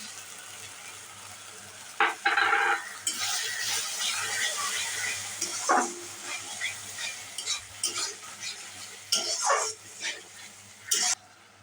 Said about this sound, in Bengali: টমেটো পেস্টটা দিয়ে দিচ্ছি